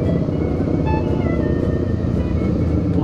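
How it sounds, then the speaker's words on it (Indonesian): A motorcycle engine rumbles loudly and steadily at close range, its exhaust giving a constant low, rough drone. "Suara kenalpotnya berisik ya"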